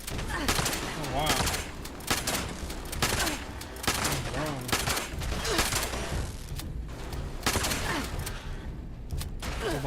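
Rapid automatic gunfire in Fallout 76, with dense bursts of shots rattling on and off through a cavern fight, plus clanking mechanical noises and short gaps between volleys.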